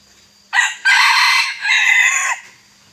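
A bantam rooster crows once during the rainy season, loud and close, in a single long call of about two seconds that stands alone against a quiet background.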